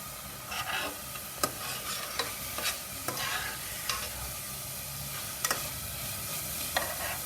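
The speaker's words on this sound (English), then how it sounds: "I'm going to add the potatoes. I've heated some oil in the kadai, and here they go." Potatoes fry in hot oil in a kadai over a high flame, a continuous soft sizzle broken by scattered clicks and scrapes of stirring, with no one talking.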